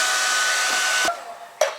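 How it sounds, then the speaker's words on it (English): A hairdryer blows hot air over freshly set stamped concrete on a patio, a loud steady whirring roar that shuts off partway, followed by a short clack. "We've had to go to means of using the hairdryer"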